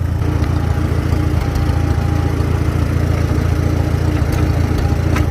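Farmall Super M-TA tractor engine labors steadily while pulling a 14-foot International 370 disc in second gear direct drive, a continuous loud low throb running unbroken throughout.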